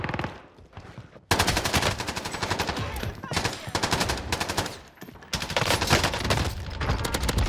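Rapid, dense automatic gunfire in Call of Duty Warzone, loud and close in long sustained bursts with brief pauses between them, rather than single sniper shots.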